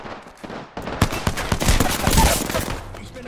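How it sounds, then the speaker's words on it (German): Apex Legends arena firefight: sharp scattered shots swelling into dense, overlapping automatic bursts, loud and close, easing off near the end with a game voice faintly mixed in. "Ich stehe unter Beschuss."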